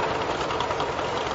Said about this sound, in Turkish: Traktör bu yüzden patinaj yapıyor.